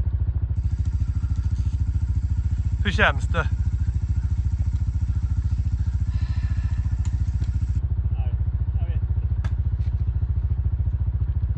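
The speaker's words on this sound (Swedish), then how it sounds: "Han ska ut och köra med sin motorcykel genom öken" A KTM 450 Rally motorcycle engine runs steadily in the Mauritanian desert, a close, constant mid-pitched drone with a fast, even pulse. A brief voice is heard over it.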